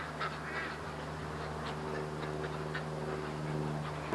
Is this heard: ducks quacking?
yes